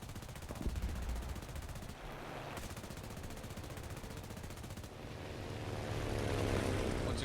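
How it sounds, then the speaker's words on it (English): Rapid gunfire from aircraft cannons and machine guns in the combat flight game War Thunder, dense bursts of fire under a droning engine, fairly faint, with no talk. "these 4 cannons, or machine guns, just do absolute work for the enemy team"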